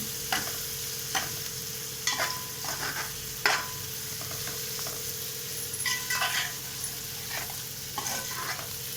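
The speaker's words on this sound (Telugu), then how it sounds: "ఉల్లిపాయ బాగా ఫ్రై అయిపోవాలి. మనం చేసుకున్న మసాలా దీనికి బాగా పట్టించి బాగా దోరగా వేగాలండి." Onions fry with masala for a fish curry, giving a continuous close sizzle with repeated scraping and stirring knocks from a spoon in the pan. No one talks.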